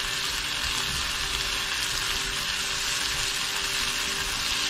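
Liver dusted in flour frying in a pan on a narrowboat stove, a steady loud sizzle that holds evenly throughout with no talking.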